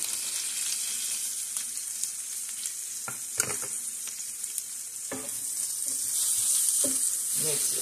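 Flour hits hot grease in a frying pan for smothered pork chop gravy, giving a loud continuous sizzle broken by scraping stirs and clinks.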